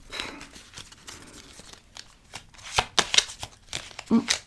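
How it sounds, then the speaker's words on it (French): A deck of oracle cards being shuffled by hand, with soft papery riffles and sharper card slaps that build in the second half into quick, close bursts of crisp flicking. "c'est difficile à mélanger celui-là"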